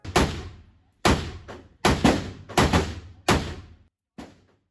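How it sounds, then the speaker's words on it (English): Six sharp unsuppressed rifle shots of supersonic rounds fired through a Q Cherry Bomb muzzle brake, each a loud crack with a decaying tail, spaced about a second apart outdoors. "here's some footage of me shooting supersonics through this thing without a can."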